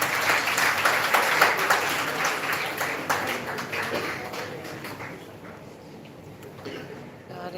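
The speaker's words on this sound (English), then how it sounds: "Big round of applause for our team." An audience applauds a student theatre group at a live session, with crowded clapping that is strongest at first and then gradually fades over several seconds to a faint patter.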